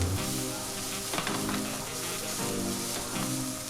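Mixed vegetables with celery sweating in a pan, a close soft sizzle with a few louder stirring scrapes and rustles, no voices.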